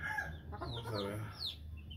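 Roosters at a rooster ranch cluck and call close by, with a short rough crow rising in the middle, over a low background hum.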